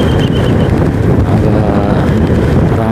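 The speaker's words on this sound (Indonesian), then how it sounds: "Anginnya kencang." Strong wind buffets the microphone during a motorcycle ride on a route to Bogor, a loud, continuous rumbling roar mixed with riding noise, close and unbroken throughout.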